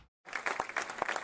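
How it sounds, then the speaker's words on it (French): Round of applause from an audience, brief, dense clapping that starts suddenly after a moment of silence and continues at moderate loudness. "Après une salve d'applaudissements."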